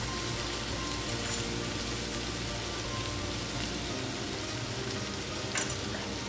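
Ground coriander, cumin, turmeric and chili powder sizzle in hot oil as they sauté with prawns and jackfruit seeds, a steady, close, dense frying hiss that holds evenly throughout with no talking.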